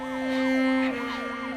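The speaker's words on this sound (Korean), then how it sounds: "경찰 사이렌 소리가 들리자 시우는 달아났고" A police siren in a Korean thriller drama scene, a loud steady wailing tone that rises and falls in repeating sweeps over a sustained drone, close and alone with no speech.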